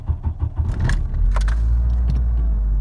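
A Volkswagen Passat B3 engine turns over and catches, settling into a low steady idle rumble after some brief clatter and clicks, with no voices.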